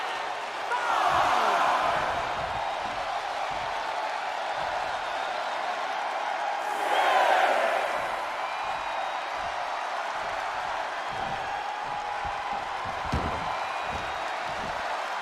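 Arena crowd in the WWE 2K25 wrestling game cheering in two swelling roars that rise and fade a few seconds apart over a steady crowd murmur.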